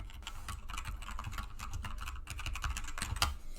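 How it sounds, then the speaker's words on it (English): Typing on a computer keyboard during a live coding session: a steady, dense clatter of key presses, close and fairly quiet, continuous with no talking. "I'm just typing the same exact fucking thing"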